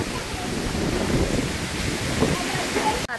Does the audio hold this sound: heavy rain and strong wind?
yes